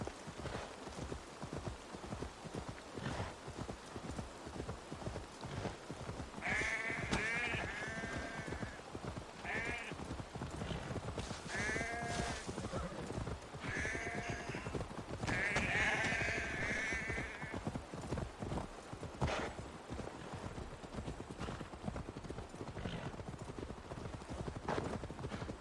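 Horses are ridden in the video game Assassin's Creed Valhalla: steady, rhythmic hoofbeats clip-clop throughout, with occasional horse snorts and whinnies over the galloping.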